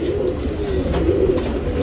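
A top tournament-class pigeon in Bangalore, India, coos steadily and close up, a low continuous warbling murmur lasting about two seconds with no speech.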